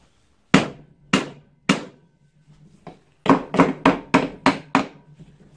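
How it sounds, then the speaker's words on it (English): A hammer strikes a tight ATV engine cover on a seized engine, aiming to crack it loose: three spaced, sharp blows, then a faint tap, then a quick run of about six loud, close hits. "Now, magic hammer again. See if we can crack this cover off."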